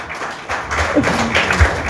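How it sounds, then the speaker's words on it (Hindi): Loud clapping from a church congregation during a sermon, a dense patter of many hands that rises and holds steady throughout. "कमान जोर से ताली बजाओ भाई।"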